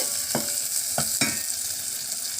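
Asafoetida powder being stirred into onion and green chili frying in oil for paruppu rasam, three distinct scraping stirs over a steady sizzling hiss, no talking.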